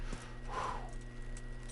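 Horse hooves clip-clopping in the medieval video game Kingdom Come: Deliverance, a brief close burst of footfalls with a short whinny-like cry over a steady low background hum.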